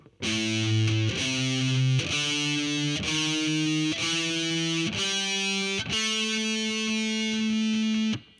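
A distorted electric guitar plays the blues scale in slow single sustained notes, each struck about once per second, loud and alone.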